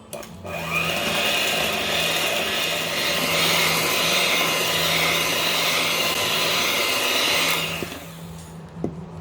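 Electric mixer whirring at a steady high pitch while beating sugar into fluffy eggs for pecan brownie batter, running continuously for several seconds before stopping near the end.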